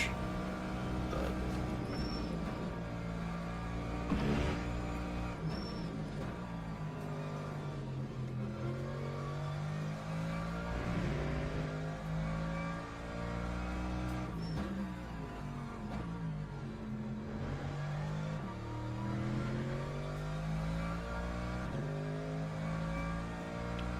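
Hypercar and GT3 race car engines in the racing game Le Mans Ultimate drone continuously, their pitch sweeping up and down through gear changes at a steady moderate level, with no talking.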